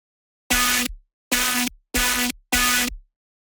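Serum synth bass patch switched to saw waves, four loud buzzy bass stabs in a row with short gaps between them, bright and harmonically dense, heard alone without speech.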